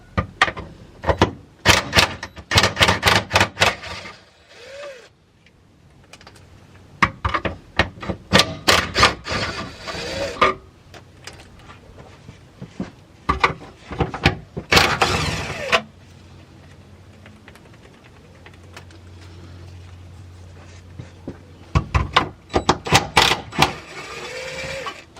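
Wrench work on the four 13mm bolts holding a BMW's centre support section, with bursts of sharp metallic clicking and ratcheting between quiet pauses, close and fairly loud.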